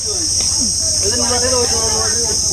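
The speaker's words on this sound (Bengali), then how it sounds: "দেখুন ঝিঝি পোকা ডাকতেছে" Crickets in a mangrove forest keep up a loud, steady, high-pitched chirring chorus through the whole stretch, with faint voices or calls drifting in the background.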